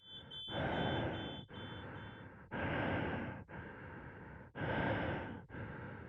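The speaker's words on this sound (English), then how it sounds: "there's an ear-piercing alarm blaring, just as a friendly reminder that, hey, you turned your air off" An ear-piercing warning alarm blares in the Voyager-19 horror video game as air runs out, a loud steady tone in long pulses with short breaks, under breathing-like rushes.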